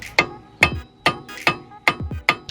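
Sharp metallic strikes ring out in an irregular rhythm, six or so heavy sledgehammer blows on chisels against metal on a Subaru WRX, each with a bright ringing decay, close by.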